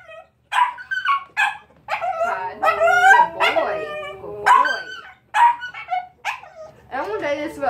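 A dog in hide training whimpers, yips and barks in a rapid, loud run of close-up vocal bursts, and the whines rise and fall between the barks.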